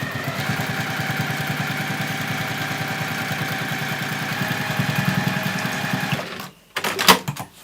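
A sewing machine stitches a line along a hem in cork fabric, its steady fast motor hum running for about six seconds up close before it stops, followed by a few brief clicks and handling noises.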